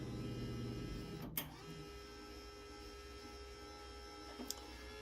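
A flux core MIG welder feeds wire through its lead with a steady, faint motor hum, broken by two brief clicks or clacks, heard close with no talk.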